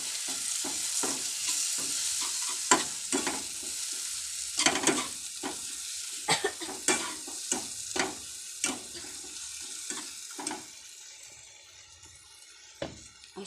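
Pointed gourd and egg mixture frying in a pan with cumin powder, stirred with repeated scraping strokes over a soft steady sizzle, close and moderately loud, no talking.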